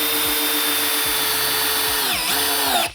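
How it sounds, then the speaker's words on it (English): A Metabo power drill runs continuously at close range, a steady high motor whine with a low rhythmic pulsing beneath, then winds down sharply and stops near the end, with no voices. "Okay, this is the Metabo."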